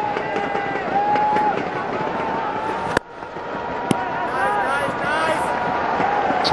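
A packed cricket stadium crowd at a Pakistan Super League match roars continuously as Shahid Afridi takes strike, a dense loud cheer with whistles and horns, a commentator talking over it.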